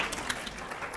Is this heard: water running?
no